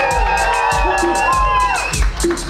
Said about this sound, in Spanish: vamos a darle ese aplauso y ese grito para Alexandra.